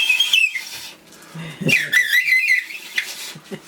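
Shrill whistling, as with a blade of grass or fingers, outdoors; wavering high-pitched tones come in several uneven bursts, near and fairly loud, mixed with brief low voice sounds.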